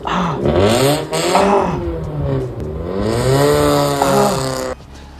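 A loud straight-piped Mazda 3 exhaust revs up and down repeatedly, a raw, raspy roar rising and falling in pitch before cutting off abruptly.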